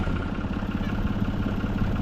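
A John Deere 8300 wide front end tractor working corn ground, its engine a steady, continuous low rumble with a faint rhythmic pulse throughout, close and even in level with no voices.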